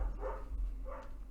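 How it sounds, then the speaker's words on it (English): Dogs bark twice in the background, faint and somewhat distant over a low hum, with a short gap between the barks. "Oh my gosh, sorry about the dogs."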